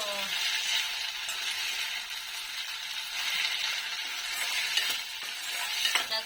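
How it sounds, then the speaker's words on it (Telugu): A spoon stirs brinjal fry in a stainless steel pan. A steady sizzle fills the clip, broken by occasional light metallic clinks and scrapes close by. "సాల్ట్ వేసుకుని అది ఇంకోసారి నేను కలుపుకుంటున్నాను"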